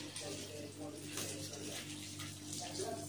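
Water runs from a tap into a pot being filled for boiling noodles, a steady soft gush at moderate distance over a faint background hum.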